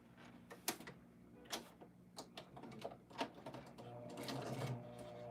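A sewing machine stitches binding onto a quilt in short bursts of rapid mechanical clatter, then runs steadily toward the end, close and fairly quiet.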